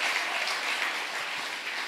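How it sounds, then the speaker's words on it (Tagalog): Steady applause from a church congregation, a dense, even patter of many hands clapping loudly throughout without pause. "Malakas na palakpak para sa ating mahal na Panginoon."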